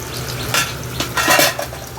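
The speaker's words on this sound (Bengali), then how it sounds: "আমি গ্যাসের ভলিউমটা একটু জোরে বাড়িয়ে দিয়ে চিকেনটা অনেকক্ষণ কষিয়ে নিচ্ছি" Chicken sautéed dry in a pan over high heat with no water added, giving a loud close sizzle broken by several scraping, clattering strokes of a utensil stirring against the pan.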